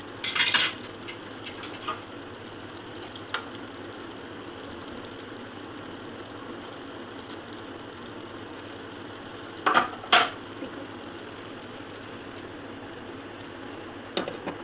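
A spoon clinks and scrapes in a pan as garam masala is stirred into a mutton curry. A burst of metallic clatter comes at the start and another near ten seconds, with quiet simmering between.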